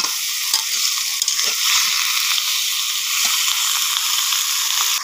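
A pot of fish curry with new potatoes, broad beans and eggplant on a clay stove is stirred, with a continuous bright sizzle and irregular scraping and knocking strokes close by.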